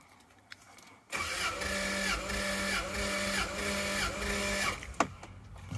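A 1997 Toyota Land Cruiser with the 1FZ-FE engine cranks on the starter during a compression test, a steady rhythmic churning with pulsing whine that starts abruptly, runs for several seconds, then stops.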